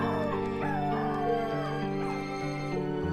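Dogs whimper and cry in long, wavering whines and yips that rise and fall over a steady background, several voices overlapping with no human speech.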